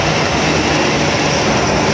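A train rumbles at a station with dense, loud, continuous rolling and roaring noise that stays level and close throughout, with no voices.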